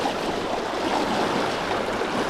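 Strong, fast-flowing stream water rushing steadily during a trout fishing outing in Wyoming, a close, loud continuous wash with no pauses.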